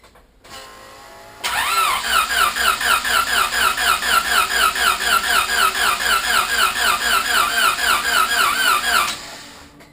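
A turbocharged Honda Civic engine cranks steadily for several seconds with injectors unplugged to build oil pressure, a loud, close, rhythmic whirring churn with a squeaky edge that never catches and runs.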